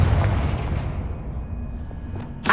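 A Confringo spell explosion from Hogwarts Legacy booms loudly at the start and rumbles away over a couple of seconds, followed by a sharp burst right at the end.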